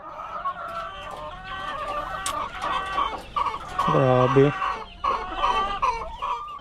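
Hens clucking and cackling in a cluster, fairly close, with a rooster's brief crow in the middle and a short exclaimed word from a person.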